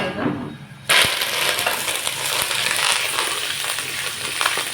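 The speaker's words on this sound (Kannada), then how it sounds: "ಕರಿಬೇವು ಹಾಕಿದಾಗ ಸ್ವಲ್ಪ ಚಟಪಟ ಅಂತ ಕುಡಿಯುತ್ತೆ" Curry leaves dropped into hot oil for a North Karnataka mandakki oggarane (puffed rice churumuri) burst into a loud, dense crackle and sizzle that starts suddenly and continues steadily, with no talking.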